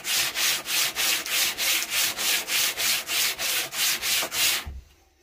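Hand sanding of a natural wooden slingshot fork with sandpaper, squaring off the flat tips: about fourteen even back-and-forth rasping strokes in a steady rhythm, close and clear, then stopping into quiet.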